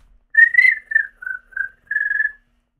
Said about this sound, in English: See, you can whistle too.